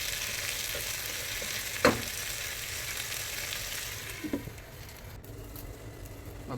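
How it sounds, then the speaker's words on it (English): Tomato masala for a prawn biryani simmers and sizzles steadily in a pan, a soft continuous frying hiss with a couple of brief stirring knocks, close and alone without talk. "we'll allow these tomatoes to cook for some time"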